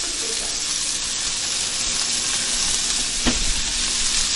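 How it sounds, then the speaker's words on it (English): Turkey burgers sizzle loudly and steadily in a hot pan, a dense crackling hiss with a faint clink near the end. "These guys are frying up real nice."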